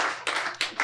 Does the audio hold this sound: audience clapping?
yes